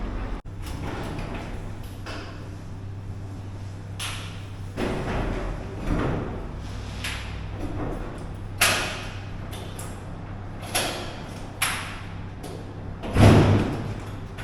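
A temple door being moved, heard as a series of wooden thuds, creaks and knocks spread through the clip, ending in a louder heavy bump near the end, close by and fairly quiet.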